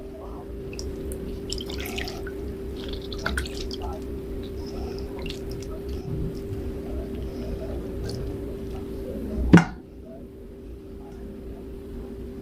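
Homemade country-style butter, kneaded by hand, drips buttermilk into a dish: soft, close wet drips and squelches under a steady low hum, with one brief sharper splash near the end.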